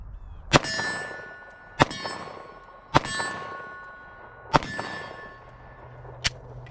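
Bullets from a Glock 19X hitting a steel target, five sharp metallic clangs with ringing decay, spaced roughly a second or more apart, heard from a distance.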